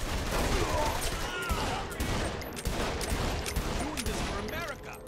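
Dense, continuous gunfire from shooting in Saints Row: The Third, a steady crackle of rapid shots under in-game shouting voices throughout.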